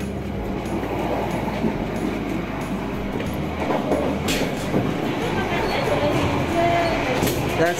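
Inside a moving train carriage while crossing between cars, a loud continuous rumble of wheels and rattling with occasional clanks and squeaks, and a person talking over it.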